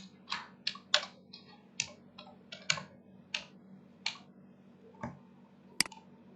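Typing on a computer keyboard, a dozen or so sharp separate key clicks at an uneven pace, close and fairly quiet over a low steady hum.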